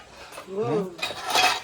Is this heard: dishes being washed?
yes